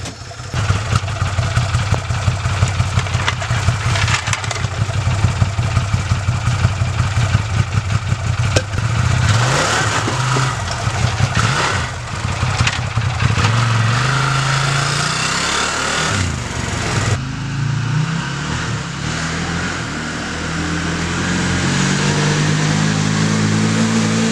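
A vehicle engine, with its drive belt and wheel studs under repair, rises in pitch as throttle is applied, with the revs climbing, falling and settling back to a steady drone, close and alone.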